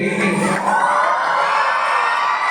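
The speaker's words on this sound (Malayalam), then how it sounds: "നന്നായിട്ട് കൂവിക്കേ." A crowd of school children lets out a loud, drawn-out booing howl together, starting at full strength and slowly fading toward the end.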